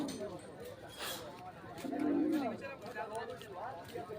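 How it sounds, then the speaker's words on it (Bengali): King pigeons coo at the Ghorashal pigeon market, a low throaty coo swelling midway through amid market chatter and background voices. "খুব ভালো এক জোড়া কিং কবুতর দেখতে পাচ্ছেন, ডাক কি ডাক রাখছে"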